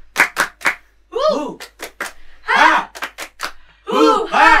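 Rhythmic group clapping for a spirited cheer in an online Sunday school session, sharp claps landing in quick sets with voices chanting between them.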